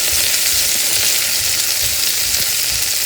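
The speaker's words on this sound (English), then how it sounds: "just put it on a high flame and sizzle it for about 2 minutes" Shrimp seasoned with pepper and salt sizzling in a pan over a high flame, a loud continuous frying hiss with faint crackles throughout.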